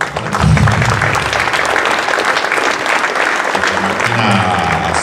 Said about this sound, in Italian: a cui va un applauso enorme